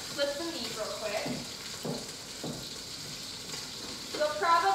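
Meat browning in a pan on the stove for a slow cooker stroganoff sizzles steadily and softly, with a few clattering stirs and scrapes breaking through the frying hiss.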